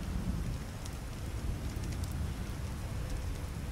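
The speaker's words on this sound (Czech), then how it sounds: "To není déšť, to je snad vodopád." Steady, dense hiss of heavy rainfall pouring continuously in a video game, with occasional faint crackles, no voices.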